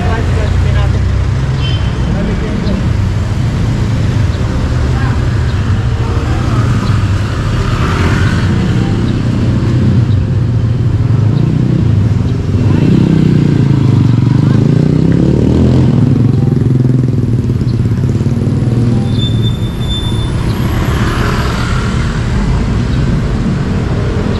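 A motorized tricycle rolls off a sidewalk amid steady street traffic, its low engine rumble and clatter continuous and fairly loud, with people talking nearby throughout.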